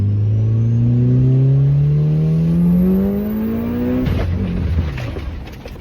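A car engine revs hard, pitch climbing steadily for four seconds, then abruptly breaks off into rough, sputtering noise that fades as the engine blows up.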